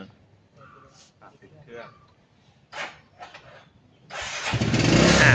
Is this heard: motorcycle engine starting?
yes